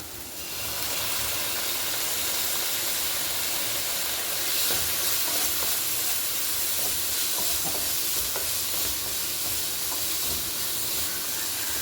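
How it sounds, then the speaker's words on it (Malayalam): A steady, loud sizzle and hiss of soy sauce hitting a hot pan, continuous throughout with faint scraping underneath. "ഞാൻ ഇതിലേക്ക് ഒരടപ്പ് സോയ സോസിൽ ഒഴിക്കുകയാണ്"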